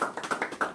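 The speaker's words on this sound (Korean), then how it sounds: "예, 우리 박수 좀." A few hands clap at a church leaders' meeting, a quick run of light, sharp claps, fairly close, in an irregular rhythm that breaks off quickly.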